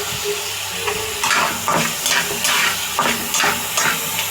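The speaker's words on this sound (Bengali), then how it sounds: "দিয়ে এটাকে লাল লাল করে ভেজে নিব" Salted prawns fry in a pan to a red finish, a constant crackling sizzle broken by rhythmic spatula strikes and stirring scrapes roughly every half second.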